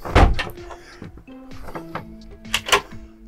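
Cupboard doors in the cabin of a 2018 Dufour 360 GL sailing yacht open with clunks and knocks, followed by soft creaks and rattles of the wooden fittings, close and fairly loud.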